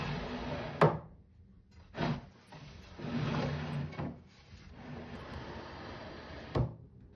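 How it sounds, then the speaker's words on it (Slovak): A handmade wooden drawer is pushed in and out along wooden runners, giving several separate scraping, rubbing slides with brief knocks where it drags and sticks, close and moderately loud, with no talking. "Zásuvka je pomerne presne vyrobená, sedí to dobre, ale ako vidíte, drhne to."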